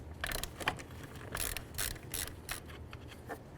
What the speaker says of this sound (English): So next we're going to remove this 13 millimeter nut right here.